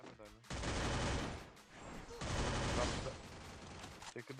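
Dense automatic gunfire from a Free Fire match pours out in two long, loud bursts separated by a short pause, with a brief voice at the start and end.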